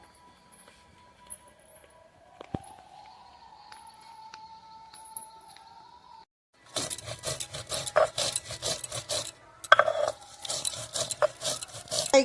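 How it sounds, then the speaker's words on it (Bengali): Cumin, coriander, cardamom and black pepper are ground by hand, an irregular rasping, scraping rub that starts after a quiet stretch and continues close and moderately loud. "মশলাটা বেটে নিয়ে এলাম"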